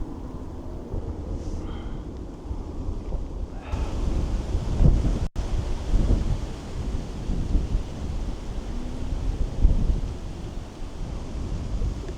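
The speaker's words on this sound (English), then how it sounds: "Pretty windy." Steady rumbling wind buffets the microphone throughout, swelling louder after a few seconds, with no clear voices over it.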